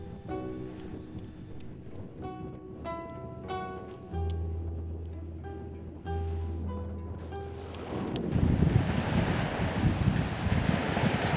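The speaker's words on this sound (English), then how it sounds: "A little beach at Saint-Simon." Waves lapping on a small beach at Saint-Simon on the St. Lawrence, steady wash of water with wind buffeting the microphone, swelling into louder rushing surf near the end.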